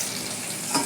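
Potatoes frying in a pan, a soft steady sizzle with a faint stirring scrape near the end, close and fairly quiet.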